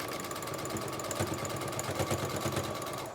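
A sewing machine stitching through several thick layers of fabric for a face mask, a fast steady mechanical whir with rapid regular needle clatter, close by and running continuously without pause.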